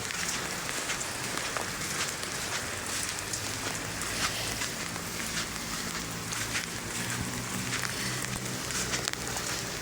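Steady rain pours down over Manila Bay, a dense even hiss of drops on surfaces that carries on without a break for the whole stretch, with faint low rumble underneath.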